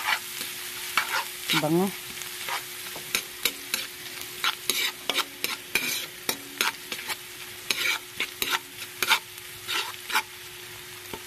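Garlic hits very hot margarine in a pan, sizzling and frying steadily while a utensil stirs and scrapes in frequent clicks; a brief voice is heard.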